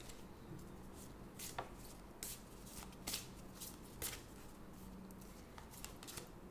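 Oracle cards are shuffled by hand in quick papery riffles and soft slaps, faint and close, with a burst of crisp snaps every second or so.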